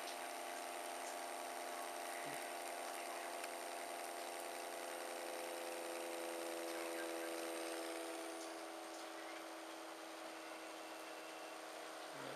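A fidget spinner wheel spinning on a Bedini energizer produces a faint, steady whirring hum with sustained tones that shift slightly lower as the wheel gradually slows near the end.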